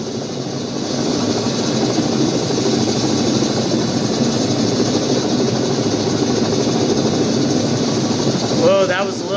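Steady, loud rotor and turbine drone of an HH-46 Sea Knight twin-rotor helicopter hovering in Flight Simulator X, continuous throughout with a brief rising whine near the end.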